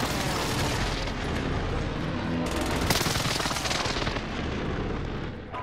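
An air strike in Call of Duty: Modern Warfare unleashes a dense, continuous roar of gunfire and booming impacts, loud and sustained, swelling at mid-point before tailing off.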